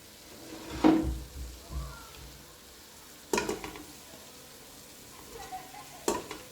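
Salted fish being stirred into a simmering sauce in a pot: a spoon scrapes and knocks against the pot in a few separate bursts spread over several seconds, with faint bubbling in between.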